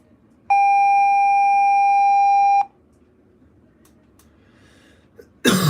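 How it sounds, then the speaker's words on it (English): A school bell tone sounds through a speaker strobe as one steady electronic ring of about two seconds, loud and close, followed by a near-silent pause and then a sudden burst of noise. "That actually sounded like the bell at my intermediate school."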